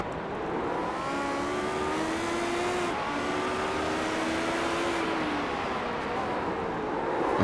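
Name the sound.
Lotus 79 race car drifting in iRacing video game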